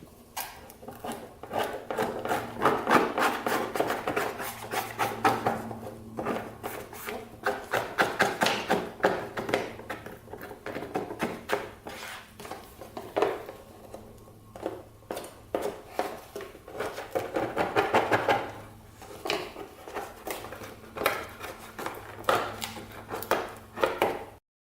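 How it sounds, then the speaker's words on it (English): Paint being chipped and scraped off Honda CR80 dirt bike parts makes close, irregular scraping strokes and sharp taps that come in uneven bursts, with no talking. "So let's start chipping away at the paint here."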